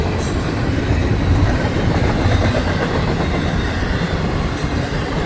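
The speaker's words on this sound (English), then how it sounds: "this is epic Florida East Coast Railway" A Florida East Coast Railway train rolls past close by, a steady loud rumble of wheels and cars with faint clickety-clack, continuous for the whole stretch with no voices.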